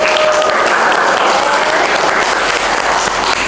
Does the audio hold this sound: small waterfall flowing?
no